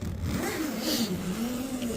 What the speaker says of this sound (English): I'll go ahead and zip this back up.